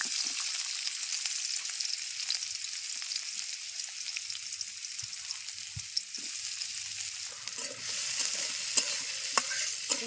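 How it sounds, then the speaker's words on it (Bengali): Onions stir-frying in oil in a karahi for mutton biryani, a low steady sizzle under repeated spatula scrapes and clinks that grow busier near the end. "মাংসটা কষানোর জন্য কারার মধ্যে তেল দিয়ে দিলাম, পেঁয়াজ দিয়ে দিলাম"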